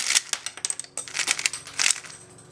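Rapid clicking and clacking of a puzzle cube being turned, a dense run of small plastic snaps at close range.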